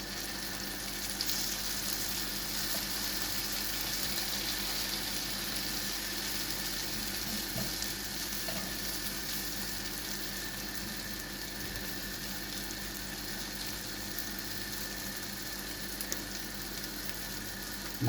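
Egg batter fries on a pan over a stove flame for a roti roll pizza, with a continuous quiet hiss and sizzle that stays steady and close throughout, with no talk.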